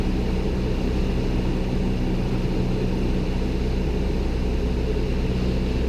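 Steady, loud droning engine and wind noise from inside a light propeller aircraft flying a left downwind leg for runway 16, constant throughout with no talking.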